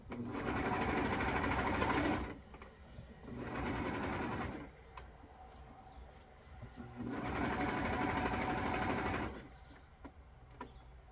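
A sewing machine stitches fabric for biker shorts in three steady bursts of rapid mechanical whirring, close and fairly loud, with short pauses between runs.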